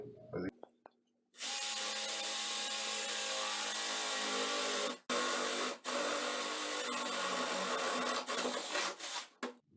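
A power drill whirs steadily for several seconds, briefly stopping and restarting, close and loud, with a grinding rasp as it bores a hole through a wooden ceiling joist.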